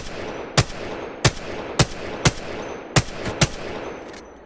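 Single gunshots in Apex Legends fired at targets on a practice range, six sharp cracks spaced about half a second apart over a steady background hum, loud and close, with no speech.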